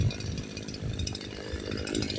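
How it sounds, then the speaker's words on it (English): A brand-new Echo CS-4910 chainsaw with a first-stage tune idles steadily on its own, a close, continuous low engine burble with a faint buzzy edge and no talking. "I'm gonna let it idle there and till it shuts off on its own"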